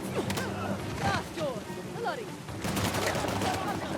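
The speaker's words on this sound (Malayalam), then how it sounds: "എന്റെ അമ്മോ പിന്നെയും വെടിവെക്കുന്നു" Gunfire in the action video game Uncharted: The Lost Legacy comes as rapid bursts of shots and impacts over a dense, loud game soundscape, with a voice talking over the action.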